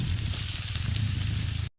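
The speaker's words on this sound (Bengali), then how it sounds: "এবার এই অয়েলটাতে আমি অনিয়ন ফ্রাই করবো" Sliced onions fry in a mix of oil and ghee for a home-cooked chicken biryani, giving a steady, close, even sizzle that runs without pause before cutting off abruptly.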